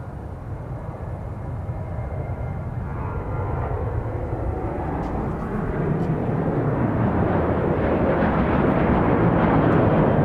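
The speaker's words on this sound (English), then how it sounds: "So the St. Louis flight looks like it's rolling now." An airliner accelerates down the runway for takeoff at Dallas Love Field, a broad, rumbling roar heard from a distance that builds steadily louder over about ten seconds, with faint radio chatter in the background.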